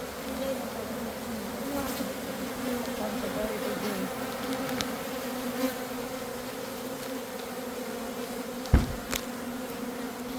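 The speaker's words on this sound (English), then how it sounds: "and this is a honeybee. There, on my finger." Honeybees buzz steadily around hive frames lifted out during a hive split, a continuous droning hum that stays close and even, broken by a brief knock near the end.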